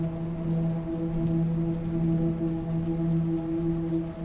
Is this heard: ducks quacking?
no